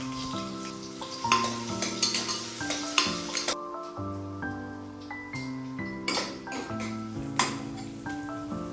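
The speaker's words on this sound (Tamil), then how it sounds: "எண்ணெய் காஞ்சதனையும் பிரிஞ்சி இலை கூடவே வெங்காயம் சேர்த்து நல்லா வதக்கி விட்டுக்கலாம்" Onions and a bay leaf sauté in hot oil in a cooker while a spoon stirs them, with a soft sizzle under clinks of metal on the pot. Background music plays throughout.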